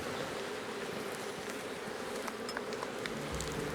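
Honey bees hum in a steady, dense buzz at a Provence apiary where honey frames are being handled, close and continuous, with faint patters and no talk.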